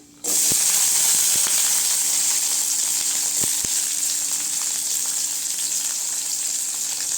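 Onions sauté in hot oil with cinnamon and cloves for a bottle gourd thokku, bursting into a loud, hissing sizzle that stays steady, with a few sharp clicks of stirring.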